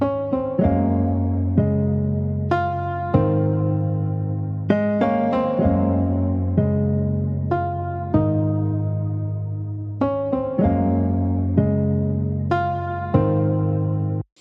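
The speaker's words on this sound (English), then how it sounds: "the one I used from this preset is called Emotional Piano" Sustained software piano chords from an 'Emotional Piano' preset, played slowly and expressively, with soft attacks and long ringing tones forming a gentle progression, no voices.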